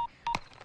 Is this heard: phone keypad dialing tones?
yes